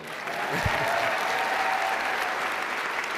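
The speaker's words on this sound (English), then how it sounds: "Can we give Mom another round of applause?" Steady, dense audience applause fills a large hall at an awards ceremony, holding at an even loudness throughout with no voices rising above it.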